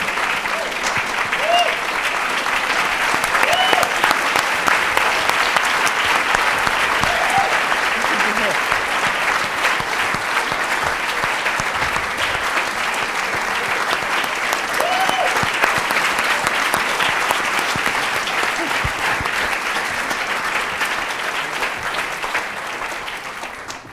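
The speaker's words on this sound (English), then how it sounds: "Thank you all for applauding and persuading him." Sustained, loud applause from a large lecture audience, steady dense clapping with a few scattered voices and cheers, fading slightly at the end.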